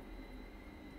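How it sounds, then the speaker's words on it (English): A Class 444 electric train pulls in on the South Western Main Line in Train Simulator, a steady low rolling rumble with a faint high whine, quiet and continuous with no talk. "train coming in."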